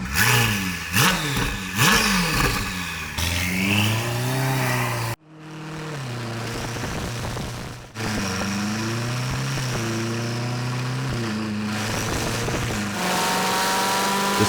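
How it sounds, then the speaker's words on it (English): Ferrari 488 fitted with a K-line exhaust revving repeatedly up and down. The engine note rises and falls loudly and nearby, briefly dropping off before surging again and holding a sustained, droning rev. "Give me a couple revs real quick, Abba. It's a K-line exhaust, bro."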